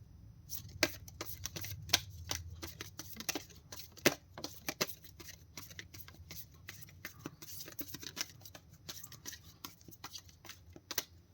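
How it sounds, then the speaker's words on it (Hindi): Tarot cards being shuffled by hand, giving a rapid run of crisp papery riffles and flicks with uneven rhythm, close and fairly quiet, alone without talk. "this is my last shuffle"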